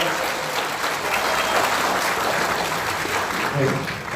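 Sustained audience applause fills the room at a press conference, steady and dense throughout with a faint murmur of crowd underneath.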